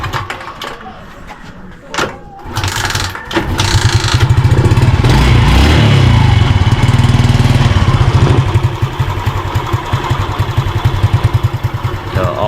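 A motorcycle engine fitted with a new Split Fire ignition coil cranks, catches and starts, then settles into a loud, close, steady rapid idle that lasts for several seconds with a throaty pulsing exhaust beat.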